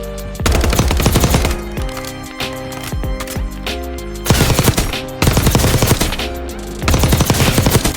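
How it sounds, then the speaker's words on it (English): SMG in the Warzone video game fired at the firing range, loud close bursts of rapid automatic gunfire in several long strings separated by brief pauses, with no talking. "Now let's take it to the firing range."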